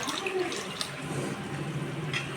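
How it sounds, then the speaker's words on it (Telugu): Water is poured into a pan of cabbage and prawn curry, making a steady, continuous splashing and gushing of moderate loudness for a couple of seconds. "సో తర్వాత వాటర్ వేసుకుంటున్నాము."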